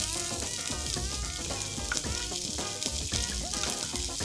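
Diced onion sautes in glistening hot oil with a steady, close sizzle and crackle, layered over a continuous tonal background.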